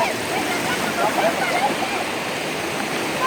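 Rushing water from a 28-metre waterfall and its stream pours in a steady, dense roar close by, a constant broadband wash with faint voices barely under it.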